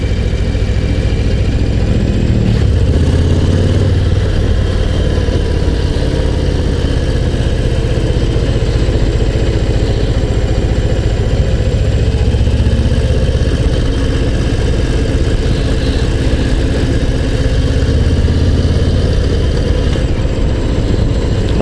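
A Harley-Davidson Low Rider ST motorcycle engine idles steadily and close by, a deep low rumble holding an even throb for the whole stretch with no voices.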